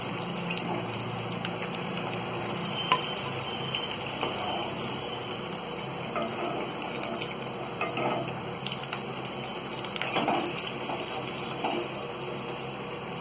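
Chili pakoras frying in hot oil make a steady, even sizzle with faint bubbling and occasional soft crackles, heard close and alone with no talk.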